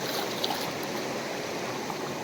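Flood water flows through a river beside a rural village in Odisha, a steady broadband rush and wash that is fairly faint and continuous, with no voices over it.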